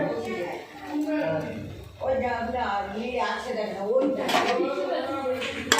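Fenugreek greens and egg are stirred in a pan with a utensil, making light scraping and clinking under someone talking throughout.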